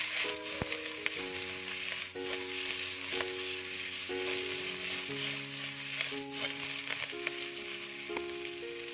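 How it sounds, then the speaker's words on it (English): Tofu being stirred as it fries in a pan for vegetarian salt and pepper tofu, a steady broadband sizzle running throughout with no talk, while sustained musical tones play over it. "add the tofu back. And we give a stir."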